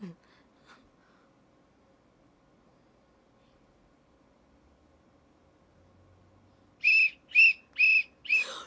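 Long near-silence, then four short, shrill whistle blasts in quick succession, loud and close.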